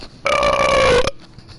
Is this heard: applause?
no